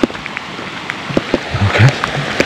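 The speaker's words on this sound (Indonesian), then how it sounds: "airnya makin deras dan kenceng" Heavy rain falls hard on a mountain near Sumbing's summit, a loud, close patter of drops on surfaces with some irregular thumps and gusty swells.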